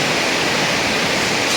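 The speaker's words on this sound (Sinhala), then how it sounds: "තාම මනරම් දියඇල්ල." Waterfall at Mandaramnuwara, a dense, constant roar of falling water, loud and close, with no voices.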